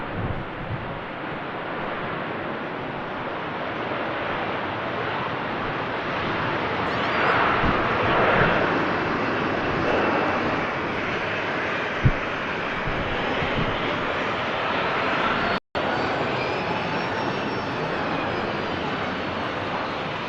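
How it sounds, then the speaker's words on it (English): An Airbus A330-300 with Rolls-Royce Trent 700 engines takes off at Manchester Airport, its broad, steady jet roar swelling and holding loud for a long stretch, with wind buffeting the microphone. "The Airbus A330 300 series with the Rolls-Royce Trent 700 engines on board. Off she goes."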